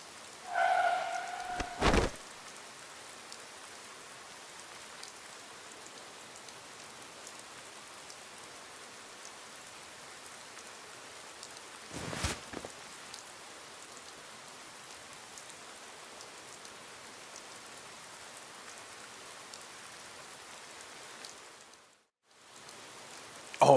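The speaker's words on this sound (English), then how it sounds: "She's in the rain." Steady rain falls in the CounterSide game as a soft, even hiss that runs all the way through, with a few brief louder bursts and one short near-silent gap near the end.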